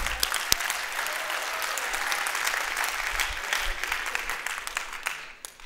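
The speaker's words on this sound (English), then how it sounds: "Let's hear it for Sherry." An audience at a startup e-commerce demo day claps loudly and steadily for several seconds before the applause thins out and fades.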